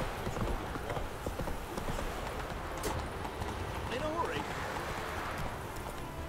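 Horse hooves clip-clop at a steady trot in The Witcher 3: Wild Hunt on Nintendo Switch, a continuous rhythmic patter under game ambience, with a voice speaking briefly over it.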